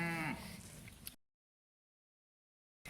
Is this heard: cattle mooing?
yes